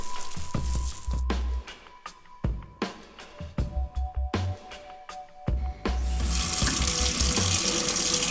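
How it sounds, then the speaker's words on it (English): Running tap water splashes over a resin miniature being washed in a sink, with intermittent bursts as the stream is interrupted and resumed, then a steady, fuller gush toward the end; close and fairly loud, no talk. "before I do anything, I want to wash it first."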